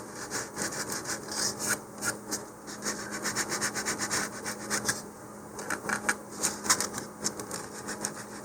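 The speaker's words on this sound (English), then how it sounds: "I'm going to lightly sand right along the line there" Sandpaper is rubbed by hand along a line on a model rocket body tube, a close, continuous scratchy rasp in quick back-and-forth strokes.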